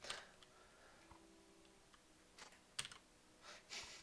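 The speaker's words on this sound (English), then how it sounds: "My keyboard is not cooperating today." Someone types on a computer keyboard at a desk, with scattered clicking keystrokes coming in irregular bursts and a few louder taps, close to the microphone under faint background hum.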